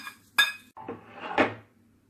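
A metal spoon scrapes and clinks against a pot as tempering is mixed into pongal, a few separate knocks and scrapes close by with short pauses between them.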